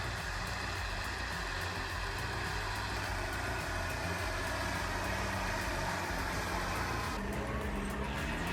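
An HSM 904ZL forestry machine's engine runs steadily as a dense, continuous drone with no clear revving, fairly loud throughout and without talk.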